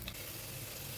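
Potatoes frying in oil for dum aloo: a steady, dense sizzle, close and fairly soft, holding evenly through a short moment.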